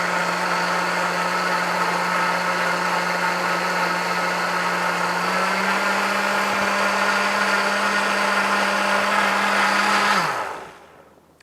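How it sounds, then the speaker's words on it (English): A blender purees a wild rice and charred carrot soup with a steady, loud motor whir and churning liquid for about ten seconds before the motor winds down and stops. "just puree it just until it's nice and smooth."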